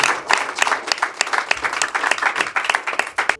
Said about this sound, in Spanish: Le pido que le regale un fuerte aplauso al Señor